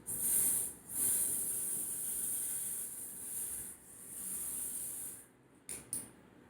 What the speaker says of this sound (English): But yeah, I think I want to go for another spritz.